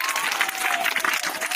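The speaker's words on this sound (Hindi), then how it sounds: "ताली बजाइए उनके लिए" Audience applause for a young quiz contestant on a school quiz game show, a dense, lively burst of clapping with a hint of crowd cheering, loud and continuous for a moment.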